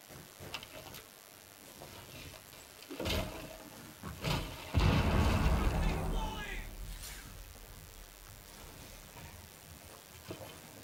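A grenade blast in the Rainbow Six Siege Chalet map during a team deathmatch, a broad booming burst that swells mid-clip among scattered gunfire and game noise, with a player talking over it.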